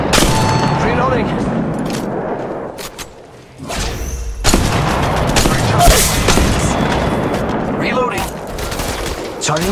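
Gunfire in the Apex Legends Mobile game: loud, dense bursts of automatic fire, sharp shots and heavy thuds that keep going through a short lull, with game voice callouts mixed in.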